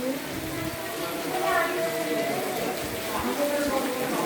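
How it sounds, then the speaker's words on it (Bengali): Steady rain falling over the Paglakhali river at Bhimpur, a continuous broadband hiss of drops on water with voices talking faintly underneath throughout. "নদীর ওপরে বৃষ্টি পরিবেশ করছে।"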